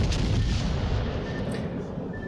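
A battleship fires a gun salvo in the video game World of Warships Legends, several heavy booming blasts in quick succession followed by a rumbling decay.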